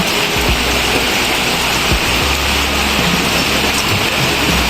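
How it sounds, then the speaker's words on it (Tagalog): Heavy typhoon rain pours down in a loud, unbroken roar during flooding behind a house near a pigeon loft, with the torrent dominating throughout. "Di, di pa rin tumitigil tong ulan."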